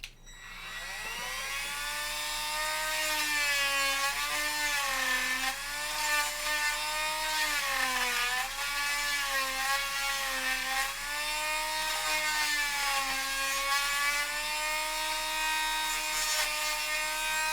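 A Dremel rotary tool grinds material away from a holster mounting plate for a Blackhawk Omnivore to Safariland MLS conversion, a close, continuous high-pitched whine whose pitch dips and recovers as the bit loads against the workpiece.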